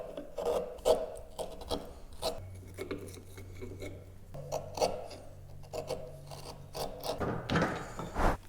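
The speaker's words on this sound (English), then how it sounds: "I'm just going to pare across with my chisel." A chisel pares across a wood joint held in a vise, producing soft, repeated scraping and rasping strokes at close range, with short pauses and a louder scrape near the end.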